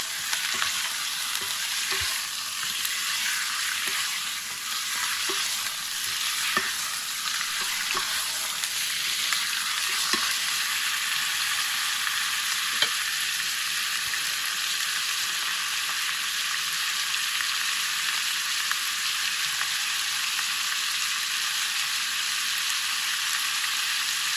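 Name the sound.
pork meat being stirred and sizzling in a pan until browned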